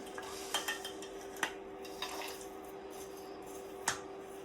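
Sugar being stirred into mothagam filling in a pot, with a spoon scraping and several sharp clinks against the pot's side over a faint steady hum, and no talking.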